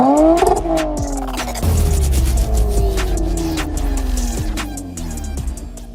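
A 2009 Honda Accord engine cranks and fires up with a rising whine, then settles into a steady idle with a descending tone and a faint pump whir, close and loud.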